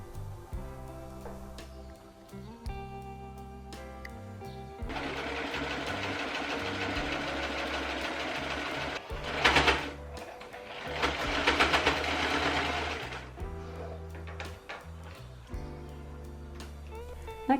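A sewing machine hemming the bottom edge of a ruffle cut from a men's shirt, a steady close mechanical whir running for several seconds with brief pauses and bumps in speed, low motor hum before and after.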